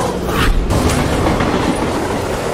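Train running on rails, a continuous rumbling roll with faint clacks and a brief louder thump early on, no voices.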